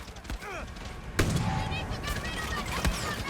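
A few sharp, isolated gunshots in the video game Far Cry 6 ring out at irregular intervals over a busy, noisy background, punchy and close.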